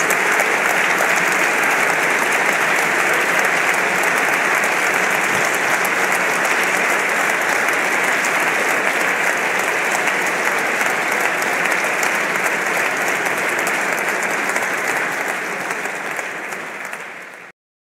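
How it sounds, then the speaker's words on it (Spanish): Dense, sustained applause from an audience at a Constitution Day ceremony, a steady crowd of clapping hands holding strong for about seventeen seconds before tapering off abruptly at the end, with no voices over it. "Y me gustaría que les aplaudiéramos a todos ellos ahora mismo en este día tan importante."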